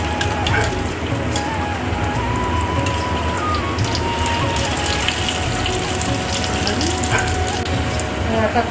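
Malpua batter frying in hot oil, a steady dense crackle and sizzle that holds at an even, close level throughout, like light rain, with no talk over it.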